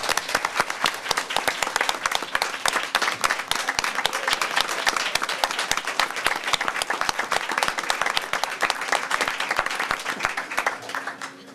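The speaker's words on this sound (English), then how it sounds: "can we give them a big round of applause?" Audience applause for student ambassadors, many distinct close claps forming a lively, evenly paced patter that continues steadily throughout.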